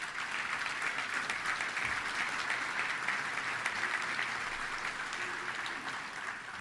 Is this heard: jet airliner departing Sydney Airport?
no